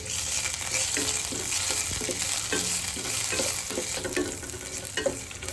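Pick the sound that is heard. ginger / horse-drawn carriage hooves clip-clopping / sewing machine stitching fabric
ginger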